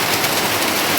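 Steady, dense rain hisses continuously, a broad even wash of falling water with no pauses, filling a bucket.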